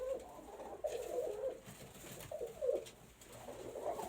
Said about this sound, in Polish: Gołębie są lekko spłoszone, bo się boją.